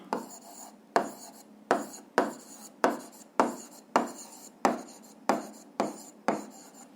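A pen or chalk scratches out a physics formula in short strokes, about ten distinct taps and scrapes at an uneven rhythm, close and fairly quiet with no speech.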